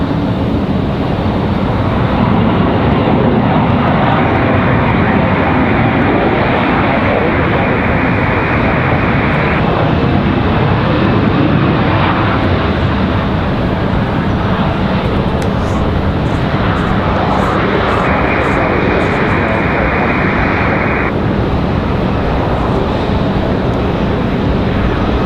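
A CRJ regional jet from JFK moves at Raleigh-Durham airport, giving a continuous broad engine roar with a steady whine, sustained and fairly close throughout.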